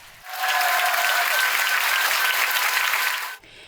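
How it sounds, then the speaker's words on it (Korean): A full 1000-seat concert hall audience in Paris bursts into strong, sustained applause after an orchestra of developmentally disabled players finishes Bizet's Carmen overture, the clapping rising quickly, holding steady, then cutting off. "몰입의 시간이 끝나자 1000석을 가득 채운 객석에서 힘찬 박수가 터져 나옵니다."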